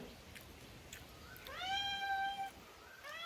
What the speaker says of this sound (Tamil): பேய் கத்துது பூனை